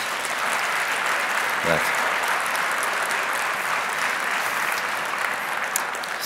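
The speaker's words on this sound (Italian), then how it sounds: "Un applauso, dai." An audience at an Italian cooking show applauds in a steady, moderately distant wash of clapping, with someone briefly speaking over it near the start.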